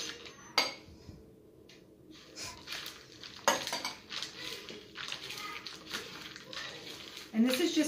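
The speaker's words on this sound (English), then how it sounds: "I'm just going to mix it in with my nuts" Garlic being mixed into roasted nuts in a bowl, with clinks and scrapes of a utensil against the dish, rustling nuts and a person talking over it.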